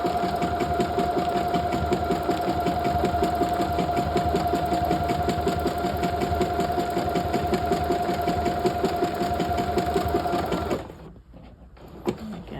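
A sewing machine stitches a double welt pocket on a half-scale jacket, running in a fast, steady mechanical whir for about eleven seconds, then stopping abruptly, leaving quiet handling sounds.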